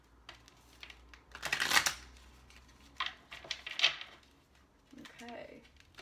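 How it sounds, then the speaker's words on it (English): Tarot cards are shuffled in a few quick riffling bursts, close and crisp, separated by pauses, with a faint voice near the end. "I'm gonna give it a good shuffle."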